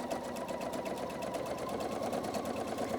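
A sewing machine stitches quilt borders with a fast, even, mechanical whir that stays steady and close throughout, with no voices over it.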